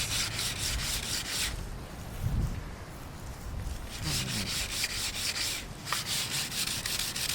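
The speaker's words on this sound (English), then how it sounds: "Sanding the log. Smoothing the log." Hand sanding of a wooden log being smoothed into rafters for a portable round house, rhythmic rasping strokes in bursts with short pauses between, close and fairly quiet.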